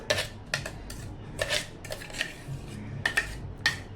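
A spoon scrapes kokum chutney into a metal vessel, giving a series of sharp clinks and scrapes in irregular bursts, close and fairly clear with no talk.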